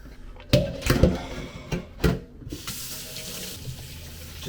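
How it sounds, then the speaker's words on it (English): Cold water from a kitchen tap runs over cooked food for a quick rinse while making Vietnamese chicken salad, preceded by a few close knocks and clatters of handling before the steady stream. "Just going to give this a quick cold water rinse."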